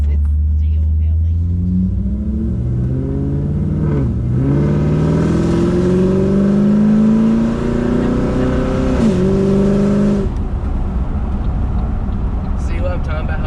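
A boosted Pontiac G8 engine revs hard under acceleration, its loud, rising roar climbing through gears with brief dips at shifts, then fading after about ten seconds; voices murmur faintly underneath.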